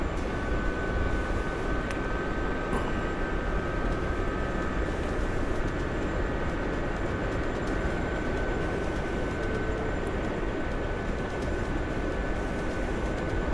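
Steady, loud broadband drone of a C-130 aircraft's engines in a video game, a continuous rumbling roar with faint tonal whine running unchanged throughout, no talking over it.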